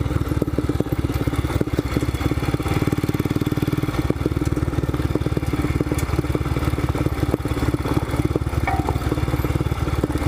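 A Royal Enfield Scram 411 single-cylinder motorcycle chugs along a loose, rocky trail in second gear, its engine producing a steady, rapid thumping beat with clattering, close and loud throughout.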